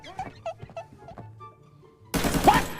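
Gunfire in a Thai shooting game bursts out loudly and densely for its last second, right after a stretch of quiet, pitched game sounds and soft chirps.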